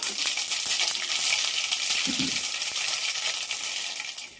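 Half a teaspoon of mustard seeds sizzling in hot oil, a steady bright hiss throughout with a short low clatter near the middle.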